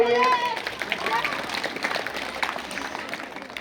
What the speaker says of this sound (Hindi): इनको प्रोत्साहन के लिए आप लोग इसी तरह जोरदार ताली बजाते रहिए